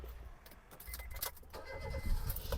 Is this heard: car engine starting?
yes